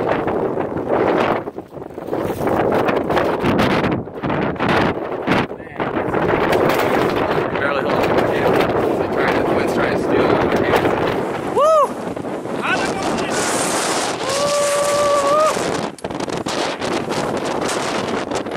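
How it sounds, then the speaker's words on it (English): Strong wind roars across a mountain trail in Patagonia's Torres del Paine, buffeting the microphone in a loud, continuous rumble that barely lets up for the whole stretch, with faint whistling tones rising above it later on. "Strongest winds I've ever been in"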